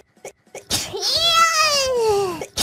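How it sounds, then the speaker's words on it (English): A single close, loud sneeze from a child or small animal, a sharp burst followed by a sustained rising-then-falling voiced tail, set among faint short noises before and after. "There's your sneeze!"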